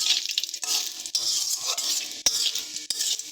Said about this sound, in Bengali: এটাকে একটু হালকা নাড়াচাড়া করে নিচ্ছি